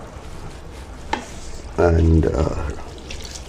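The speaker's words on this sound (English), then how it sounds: "water that is left over from the cooking of the pasta" Pasta cooking water splashes into a pan of chicken spaghetti sizzling over low heat, a short loud pour rising out of steady frying hiss, with a voice speaking over the cooking.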